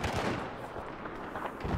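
Sniper rifle fire and battle noise from the video game Battlefield 4, a dense, steady roar of distant gunfire and explosions with no clear single shot standing out.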